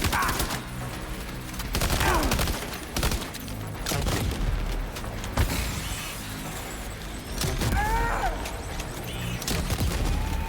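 Gunfire and explosions in the video game Death Stranding 2 during a boss fight with a rocket launcher, dense bursts of shots and booms layered over game music, loud and continuous without talking.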